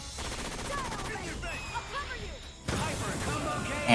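Rapid bursts of video game gunfire crackle through a busy competitive match, with dense shots and impacts layered over ongoing commentary voices and a sharper crash near the end.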